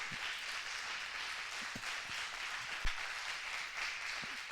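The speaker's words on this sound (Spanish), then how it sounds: "Denle un aplauso al Señor, pero un aplauso grande porque Él vive" A church congregation applauds during a sermon, giving a steady, broad round of clapping that continues evenly, heard at a moderate distance with a few low thumps underneath.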